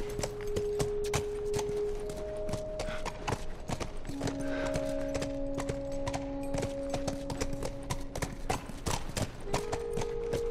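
Steady clip-clop of a horse's hooves walking in the video game The Last of Us Remastered, an even plodding rhythm over background music with sustained tones, fairly close throughout.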